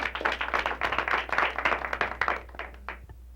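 Small audience clapping after a senior revue's tap dance solo, a modest group of hands producing distinct, uneven claps at close range that thin out and stop after about three seconds.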